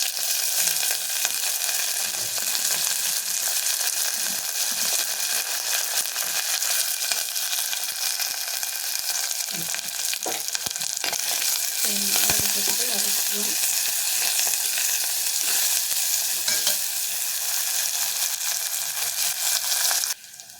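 Chopped onions and curry leaves crackle in hot oil with mustard seeds, a dense continuous sizzle that holds steady and close throughout, broken only by faint stirring knocks.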